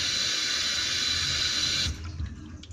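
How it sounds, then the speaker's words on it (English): Water rushing and glugging through a household radiator heating system, a loud steady gushing flow that cuts off abruptly partway, leaving faint gurgles and low rumbling knocks in the pipework. "I heard some glugging, but it's just that radiator behind me"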